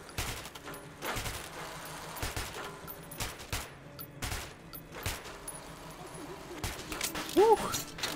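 Bursts of rapid gunfire at a shooting range in Metro 2033, repeated volleys spread across several seconds, moderately loud with game background noise between.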